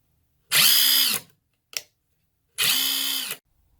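Tenwa impact wrench run in two short bursts of high, whining motor noise, each under a second long, with a small click between them, close and fairly loud with no voices.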